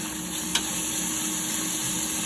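Octopus dropped into a sauté with chili and shrimp paste, setting off a steady, loud hiss of sizzling oil with a brief clack of a utensil near the start.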